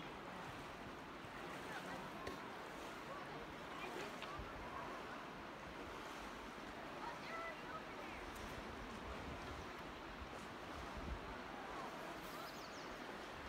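A stream flows in Zion National Park, a steady broadband rush of water mixed with outdoor wind noise, continuous and moderately distant, with faint voices in the background.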